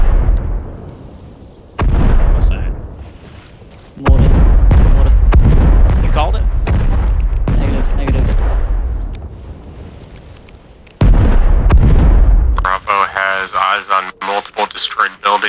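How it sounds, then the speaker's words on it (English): Mortar shelling during platoon training, with repeated heavy booming explosions and long rumbling tails, loud and sustained across several seconds, followed by crackling radio chatter and talk near the end. "What's that? Mortar."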